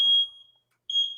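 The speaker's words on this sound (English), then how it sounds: "It's the smoke detector" A household smoke detector sounds two shrill, steady electronic beeps, close and loud, with a brief silent gap between them.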